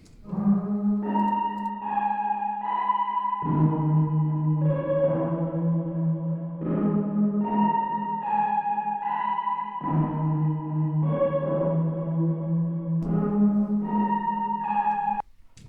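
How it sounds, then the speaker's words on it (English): A lush synth pad, the Stellar preset from the Solitude Serum bank, holds sustained chords that shift every few seconds, warm and steady with airy upper harmonics, playing alone without talk. "here's what that pad sound sounds like"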